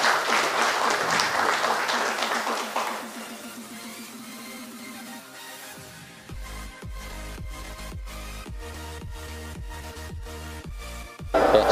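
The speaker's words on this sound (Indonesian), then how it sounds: "kita berikan aplaus untuk SMK." An audience at a Muhammadiyah vocational school event in Karanganyar bursts into loud, dense clapping for a few seconds, which then thins and fades as music with a steady beat takes over.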